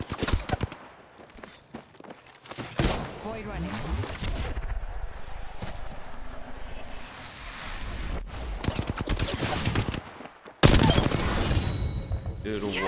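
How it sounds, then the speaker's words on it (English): Gunfire in Apex Legends from an R-301 rifle, rapid bursts of sharp shots crackling in clusters between quieter stretches, with loud impact noise near the end and a player talking over parts of it. "They spotted me. I'm taking shots."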